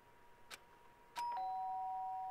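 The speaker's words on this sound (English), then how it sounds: "That was indeed the doorbell." A doorbell in the video game Danganronpa gives a two-tone chime, a soft tap followed by a bright ding that sustains and rings out steadily to the end, heard alone and fairly loud.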